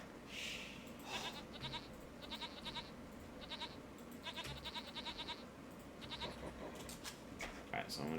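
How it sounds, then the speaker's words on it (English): Sheep bleat from an Age of Empires II match on the Arabia map. Short, repeated bleats come in clusters, fairly faint under a steady game background, and someone talks over them for most of the stretch. "Some sheep over there."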